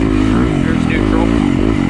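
A Yamaha YZ250FX dirt bike sits in neutral with its engine idling steadily, a loud, close, even motor rumble running throughout the clip with no talking.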